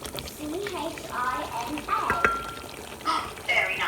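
A spoon stirs lemon myrtle rice in a pot over gentle bubbling and faint sizzling, with soft scrapes and clinks, while a person talks throughout.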